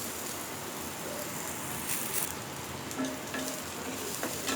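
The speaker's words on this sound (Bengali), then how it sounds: "ভাজা হয়ে গেছে, এখন এটা আমি নামিয়ে নিচ্ছি।" Ingredients for a dried bash pata fish bhorta sizzle steadily in a hot pan, a dense continuous crackle with a few louder pops and stirring scrapes near the end, no talking.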